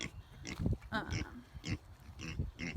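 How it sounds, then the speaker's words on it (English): A boar pig kept in a separate pen on a semi off-grid farm with a mud hole grunts and oinks in a series of close, rhythmic snorting calls. "He's our boar, so he has to be kept separate because we don't need any pig babies right now."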